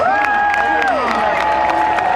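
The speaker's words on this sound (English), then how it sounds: "Everybody here a loud round of applause" An audience at a medieval festival claps and cheers loudly, a dense wash of applause with whoops, while a voice carries over the crowd.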